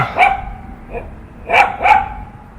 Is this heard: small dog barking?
yes